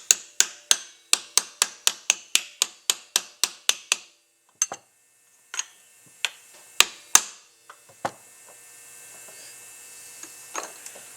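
A part is tapped down around its edge on a Ford, with a fast, even run of sharp metallic taps close by. Slower, scattered knocks follow, then quiet near the end.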